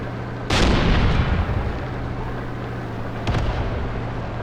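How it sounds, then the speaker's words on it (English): A tank fires at an anti-tank gun in the Graviteam Tactics war game, a loud booming cannon shot with a long rumbling tail, then a second fainter distant blast. "it's shooting back at the gun now"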